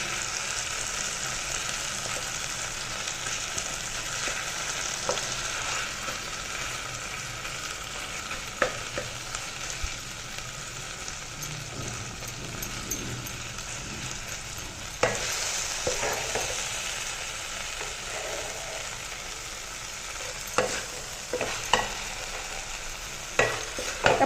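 Fish head masala stirred and frying in a pan over a gas flame, a steady sizzle with occasional scraping stirs and clinks of the spoon, close and continuous, with no talking.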